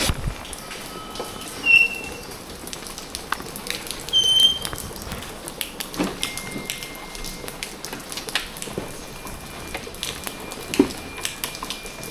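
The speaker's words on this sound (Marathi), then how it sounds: "हो पाऊस पण चालू आहे मस्त" Light rain patters steadily in dense forest near Badlapur, with scattered drips and ticks on a surface and occasional chirps in the distance.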